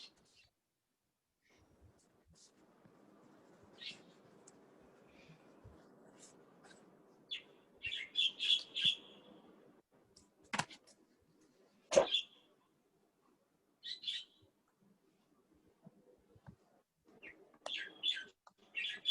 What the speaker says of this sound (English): A nice bird song in the background.